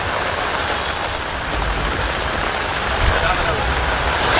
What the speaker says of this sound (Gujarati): હજુ પણ વરસાદ વરસી રહ્યો છે